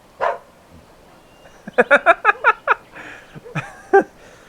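A companion dog in the video game Dragon Age barks in a quick run of six sharp, close barks, then gives a few softer yips and one last bark, with quiet pauses between them.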